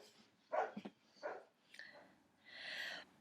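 A few barks from a dog nearby, spaced out, followed by a longer whining yelp, fairly faint.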